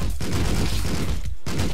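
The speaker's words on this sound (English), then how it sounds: "Alright, this one I'm gonna shoot." Gunshots in the video game Streets of Rogue: a quick, dense run of loud shots packed together, followed by a brief gap and one more blast at the end.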